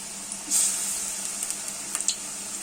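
Thankuni leaf pakoras frying in hot oil on a lowered gas flame: a steady, soft sizzle runs throughout, swelling briefly as batter drops in, with a few small crackles and pops near the end.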